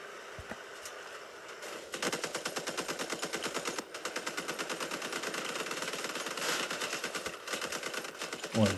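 Machine guns firing in the Crossout mobile vehicle combat game, long rapid bursts of clattering automatic fire with brief pauses between volleys, steady and fairly loud, with no talking.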